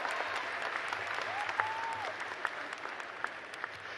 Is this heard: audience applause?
yes